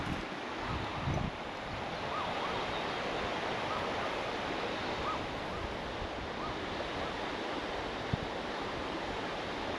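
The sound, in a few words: water rushing down below the drop off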